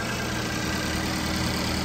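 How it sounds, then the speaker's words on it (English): A 2010 GMC Terrain with the 2.4-liter engine, all-wheel drive and 89,000 miles, idles with a smooth, steady hum that stays even throughout, with no voices over it. "Engine runs beautifully."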